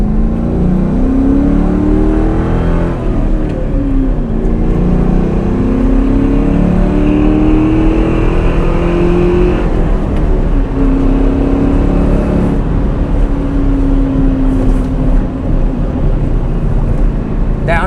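A 2003 Ford Mustang Mach 1 with a 4.6 V8 and five-speed manual pulls through the gears on a test drive, its engine note rising and falling in steady sweeps with a shift break midway, loud and close throughout.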